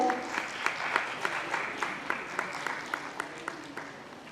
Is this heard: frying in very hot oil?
no